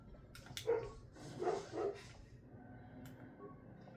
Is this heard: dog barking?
yes